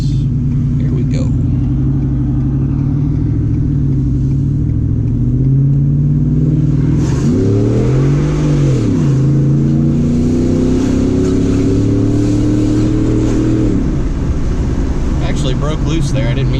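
A Ford F-150 pickup drones along a wet road, then its engine surges loudly under hard acceleration with rising revs, holds the pull, and drops back as the throttle eases.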